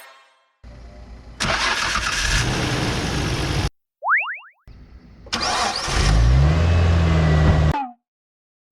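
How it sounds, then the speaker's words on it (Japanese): Two car starts in a row: each time a starter motor whirs and cranks briefly before the engine catches and settles into a steady idle, close and loud, separated by a short springy boing sound. "セルモーターの回る音からエンジンがかかるまでの時間"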